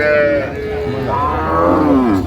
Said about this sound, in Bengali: বেশ সুন্দর গাভী বাছুর